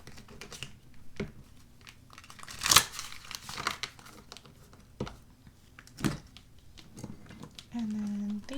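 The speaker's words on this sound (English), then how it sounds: "give these a quick shuffle" Tarot cards being shuffled in a few quick riffling bursts with soft crinkly handling between them, close up, followed by a brief low hum.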